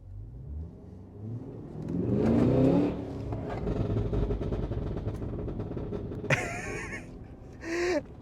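A 2023 Cadillac Escalade V engine revs up and holds, rumbling, then a couple of sharp exhaust pops and crackles from unburnt fuel near the end.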